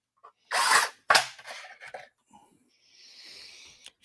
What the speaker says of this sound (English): Hand drill.